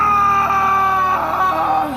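A man screams loudly as he falls from a balcony: one sustained, wavering cry lasting about two seconds, close and strained, with no other sound around it.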